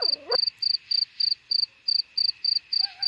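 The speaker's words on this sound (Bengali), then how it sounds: "শুধু একটানা ঝিঝির ডাক" Crickets chirp at night in a steady, evenly spaced pulsing trill, close and clear, with a brief whistle-like sound at the start and end.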